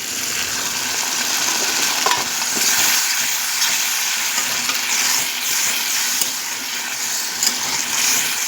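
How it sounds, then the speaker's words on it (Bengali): Fish-oil curry sizzling and frying in a pan as a little water goes in, giving a steady, loud hiss with faint stirring scrapes throughout and no talk. "এখন আমি একটু সামান্য জল দেব।"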